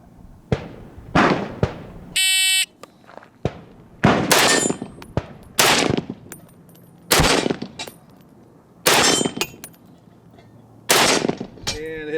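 POF Revolution rifle fired at the range, about eight loud, sharp shots spaced a second or more apart, each with a short ringing tail, timer beeps between them and a voice speaking briefly.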